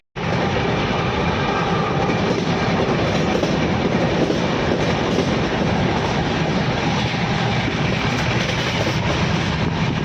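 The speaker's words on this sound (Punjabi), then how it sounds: "ਅਸੀਂ ਅੰਬਾਲੇ ਸਟੇਸ਼ਨ ਦੇ ਉੱਤੇ ਖੜੇ ਆ ਤੇ ਟ੍ਰੇਨ ਚੱਲਣ ਵਾਲੀ ਹੈ" A train at Ambala railway station gives a steady, dense rumble and clatter throughout, close and continuous, with no talk over it.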